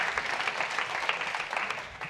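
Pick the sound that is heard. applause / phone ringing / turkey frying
applause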